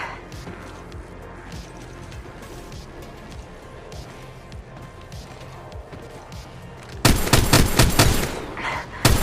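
Gunfire in the video game Apex Legends, with quieter footsteps and clatter first, then a sudden loud burst of rapid automatic shots near the end.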